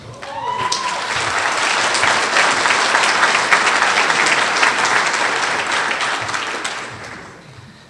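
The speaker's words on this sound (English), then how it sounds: "please give your applause to Jabari Lachelle" Audience applause for a speaker at the Martin Luther King Jr. Freedom Center, a dense, steady burst of clapping from a large crowd that swells quickly, holds for several seconds, then tapers off near the end.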